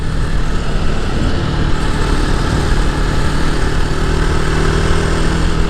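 Jawa 42 Bobber motorcycle engine running on the road, a steady loud rumble with broadband wind and road noise, continuous and close.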